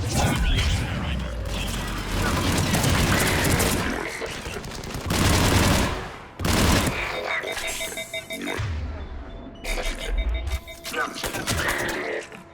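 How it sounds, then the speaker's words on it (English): Mass Effect 3 combat in No Man's Land: missile launches and gunfire in loud rapid bursts and volleys separated by brief lulls, with mechanical clatter mixed in. "Firing remaining missiles."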